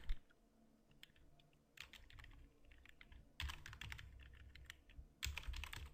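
Keys clatter on a computer keyboard in quick, irregular bursts with short pauses between them, close and clear, with no voices.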